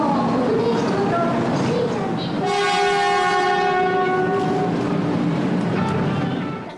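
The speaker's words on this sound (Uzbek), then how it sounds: "Yaponiyaning g'arbiy qismida Hello Kitty qahramoni bilan bezatilgan yangi tezyurar poyezd foydalanishga topshirildi." A new Hello Kitty themed bullet train in western Japan sounds its horn in a sustained blast over the rumble of rolling cars, with a voice speaking over the rail noise.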